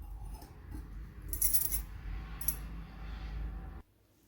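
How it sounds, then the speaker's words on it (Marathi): A spoon clinks against a glass twice amid soft swirling and scraping while stirring beetroot sherbet, then everything stops abruptly. "आपण आता हे फिरवून घेत आहोत"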